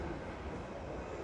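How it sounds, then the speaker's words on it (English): A Merseyrail Class 777 electric unit pulling into Birkenhead Hamilton Square underground station, a steady rumbling roar of wheels and motors filling the platform with no voices. "our train is just about to pull in to Birkenhead, Hamilton Square"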